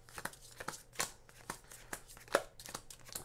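Cards riffled and shuffled during a tabletop board game session, a series of short papery bursts spaced irregularly, one sharper snap near the end, fairly quiet with no talking.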